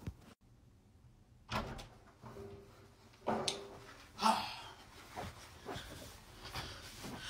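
A bedroom door is shoved open abruptly, with a few loud thumps and bangs of wood against the frame in a quiet indoor room, each impact short and separated by brief pauses.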